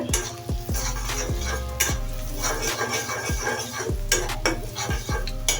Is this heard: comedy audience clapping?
no